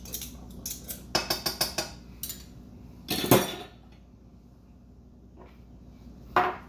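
Small garlic cloves are scraped off a board or out of a press with a metal utensil, giving a quick run of clinking, scraping clicks, then a louder scrape, a pause and one last clatter, all fairly close.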